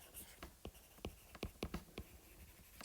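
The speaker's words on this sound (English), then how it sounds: "I'm just going to write down organism." Pen writing a single word on paper, quiet close strokes in short irregular bursts of scratching taps, with no talking.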